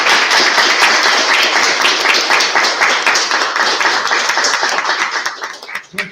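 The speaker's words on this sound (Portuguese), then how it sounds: "eu queria pedir uma salva de palmas para o Kenneth." A school audience at a careers talk gives a loud, sustained round of applause for a guest speaker, dense clapping with a little laughter that thins out and fades at the end.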